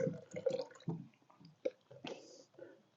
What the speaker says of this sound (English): I'm going to use it to water these plants